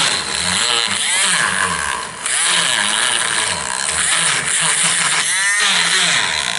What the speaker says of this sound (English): So to patch it, I'm gonna take a Dremel. Because if we just keep patching over it with plaster, it'll just keep cracking. So I need to make a groove.